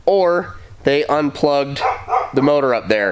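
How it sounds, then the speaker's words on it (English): Neighbors' dogs bark nearby in repeated short bursts, mixed in with someone talking steadily over them. "I'm sorry about the dogs. My neighbors don't care about their animals."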